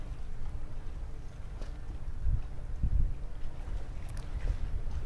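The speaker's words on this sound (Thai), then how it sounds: "ฟังเสียงลมเสียงคลื่นนะคะ" Steady outdoor wind rumble with a low, rolling wash like waves, a few soft surges along the way; no voices.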